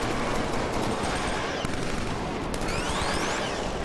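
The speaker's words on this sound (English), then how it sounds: "this gun I'm using now, this M82 assault rifle, is actually pretty good at taking out guys in mechs" Dense automatic fire from an M82 assault rifle in the Killzone 3 video game, a loud, continuous roar of rapid shots with no pause.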